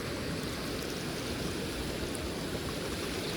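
Water running through a flooded rice paddy during monsoon planting, a constant rushing, gurgling flow heard close and alone without any talk.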